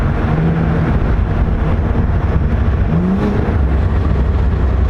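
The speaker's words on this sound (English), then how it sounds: "The burble is noticeably different." Cadillac CT4-V Blackwing with cat-less downpipes downshifting. Its exhaust gives a loud, steady rumble with low burbling pulses and short rises in pitch, mixed with road and wind noise.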